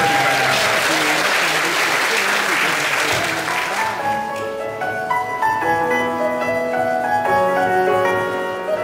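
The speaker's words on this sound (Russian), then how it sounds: "Аплодисменты, конечно" Audience applause at a cosplay festival show, dense and loud for about four seconds, then thinning out as music continues beneath it.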